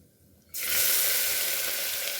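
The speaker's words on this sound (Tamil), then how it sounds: "பொறுமையாக போடுங்க இல்லைன்னா தெரிக்கும் வெங்காயம் போட்டோன்னே நல்லா வதக்கிக்கலாம்" Chopped onions hit hot oil already holding cinnamon, bay leaf and cloves in a pressure cooker for Tamil mutton kulambu, setting off a sudden loud sizzle after a quiet moment that stays strong and steady, close up.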